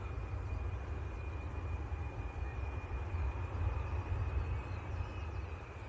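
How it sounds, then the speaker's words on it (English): A Bombardier Global Express business jet running its engines at Leeds Bradford Airport, heard as a steady low rumble in the distance with a faint whine above it, continuous and even, with no voices. "You can probably hear that rumbling in the background. That's a Global Express."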